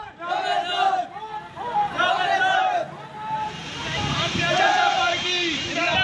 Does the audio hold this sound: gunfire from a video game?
no